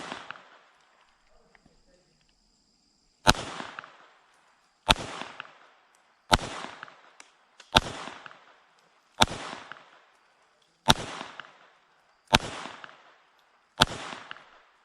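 Glock 44 .22LR pistol shots at a shooting range, eight sharp cracks spaced about a second and a half apart, each decaying quickly, with quiet pauses between.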